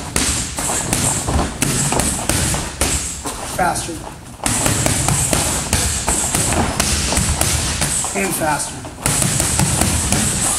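Muay Thai strikes in a Dutch-style reaction drill for MMA, a rapid run of thumping and slapping impacts on pads that keeps speeding up, loud and close, while a coach calls out.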